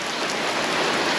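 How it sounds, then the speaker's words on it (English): Heavy pouring rain outdoors during warm weather, a dense, loud, steady hiss of countless drops beating down without a break, close and enveloping, with no voices. "it's like pouring rain outside"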